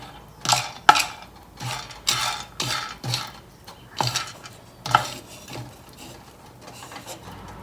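Coffee beans stirred in a pan while roasting, a series of rhythmic scraping and rattling sweeps, about eight distinct strokes close by, fading slightly toward the end.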